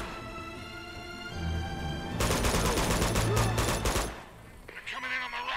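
Bursts of rapid gunfire from the video game Uncharted 2, a loud dense volley in the middle of the clip amid game sounds, with a player talking before and after.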